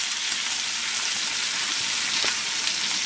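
Anchovies (nethili) frying crisp in hot oil: a dense, even sizzle close up, continuous and loud throughout with no voices.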